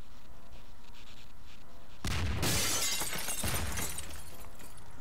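Computer screen glass shatters in Garry's Mod with a sudden loud crash partway through, followed by a few seconds of tinkling, scattering debris over a low background hum.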